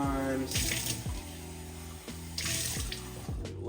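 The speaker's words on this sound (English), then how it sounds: "take the cup to a sink, rinse it out with some warm water, rinse it a couple times" Warm tap water runs into a sink as an aquarium probe cup is rinsed out, a steady splashing flow with several bursts of sloshing as the cup fills and empties.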